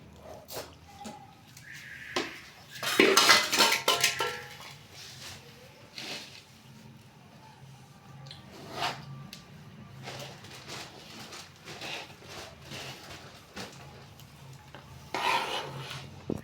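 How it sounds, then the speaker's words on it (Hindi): Flaxseed mixture stirred in a pan on a low flame, with scraping, rasping strokes that come in bursts, loudest early on and again near the end, over a quiet kitchen background. "इसको इस तरह हिलाते रहेंगे हम"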